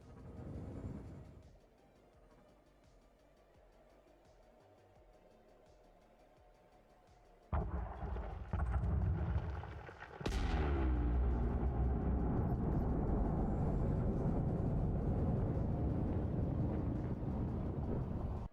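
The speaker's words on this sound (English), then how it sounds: "I can go over here to the fissure and hit the detonate now, and it will detonate all of them." Detonation charges blow apart an asteroid fissure during mining in Elite Dangerous, a quiet hum giving way to a sudden deep blast, then a second bigger boom that turns into a loud, sustained rumbling roar.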